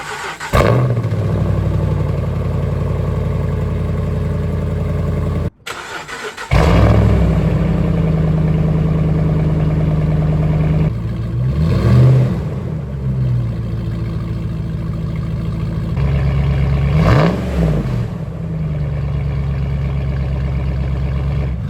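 A Ram 1500 pickup engine with shorty headers idling up close, a deep steady rumble broken by a short gap, then two or three brief revs that rise and settle back to idle.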